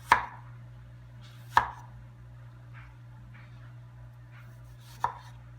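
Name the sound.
knife slicing apples thinly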